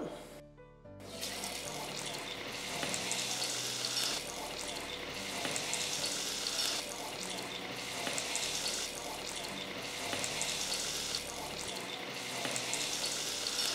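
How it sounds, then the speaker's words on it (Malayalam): Masala-dipped slices of elephant foot yam drop into hot oil and deep-fry with a continuous, watery, bubbling hiss after a brief quiet start, steady and fairly soft, with no voices. "നമുക്ക് ഓരോന്നായി നമ്മുടെ മസാലയിലോട്ട് മുക്കി നമ്മുടെ എണ്ണയിലോട്ട് ഇട്ട് കൊടുക്കാം"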